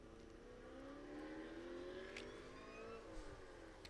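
Supercharged race cars launching side by side at a drag-style performance challenge at Thunderhill, their engines winding up in a rising whine that swells and holds, heard from a distance with no talk.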